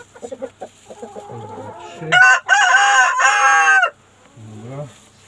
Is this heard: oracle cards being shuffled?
no